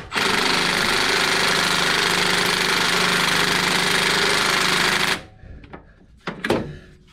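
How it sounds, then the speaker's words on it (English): A Milwaukee impact wrench on its lowest setting tightens bolts on a Jeep JK front end: one loud, close, sustained hammering rattle lasting about five seconds that stops abruptly, followed by a few faint clanks and handling noises. "Now it's just a question of tightening these up. I'll start it off with the impact."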